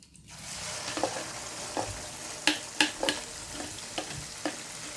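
Chili dropped into very hot garlic oil, frying with a steady sizzle and crackle, with occasional louder stirring clanks and pops standing out near and alone.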